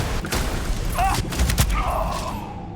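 Gunfire in the video game Starfield during a fight with the Accursed, a dense run of shots and booms over a steady rumbling game backdrop, loud and close, with no voices.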